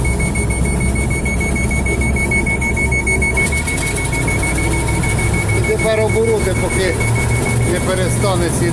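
An electronic alarm on a Don 1500B combine beeps repeatedly over the constant loud drone of the running machinery, with the beeping changing pattern partway through.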